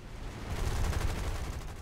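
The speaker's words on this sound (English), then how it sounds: "there's some sort of gunfire from down below here" Sustained gunfire in the video game War Thunder, a dense rumbling rattle of rapid shots coming from below a small biplane, steady and moderately loud throughout with no talk.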